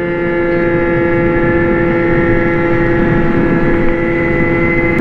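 Modified 50cc moped engine carrying two riders, a steady loud buzzing drone with strong harmonic whine, held at constant revs throughout with no talk.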